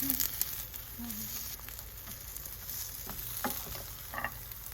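Oatmeal pancakes (jeon) with melting cheese fry in a pan, giving a steady, soft sizzle and faint crackle close by with no talking.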